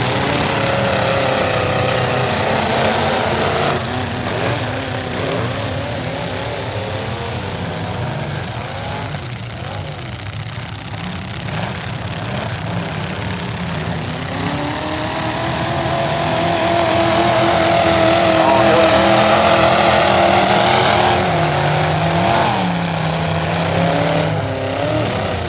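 Demolition derby cars roar continuously around a dirt track at the Bash For Cash event, engines droning loud and close with revving swells, while a loose rear tire scrapes along a car's right rear corner.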